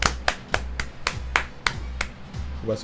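A few sharp, separate hand claps in a slow, uneven rhythm, close and loud, applauding the Mexico national football team, over a low steady hum.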